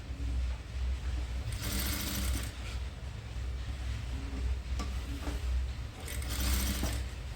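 A tailoring sewing machine stitches a full frill long dress in a steady, close, fast mechanical whir, with a few bursts of louder running in between.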